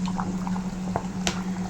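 Gentle bubbling and popping of a thick cowpea and potato curry simmering in a pot over a medium flame, with a few distinct pops over a steady low hum.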